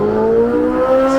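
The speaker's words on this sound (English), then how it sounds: "You got that mid-engine V8 about to scream, because Steve's gonna get on it for me." The mid-engine V8 of a Corvette C8 Z06 revs up close and loud, its pitch climbing steadily over a brief, sustained howl.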